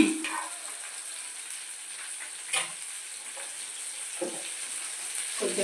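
Cumin seeds and curry leaves frying in a pan for a gongura coconut chutney, a faint, thin sizzle with a few soft stirring taps, quiet and close without talk.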